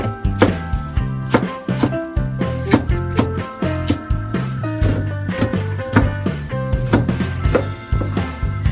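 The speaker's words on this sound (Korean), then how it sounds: "양파는 굵게 썰어 준비하고 대파, 청양고추는 어슷어슷 썰어 준비해줘" A knife chops onion, green onion and chili peppers on a board for braised mackerel, with quick, steady strokes repeating about twice a second under continuous background music.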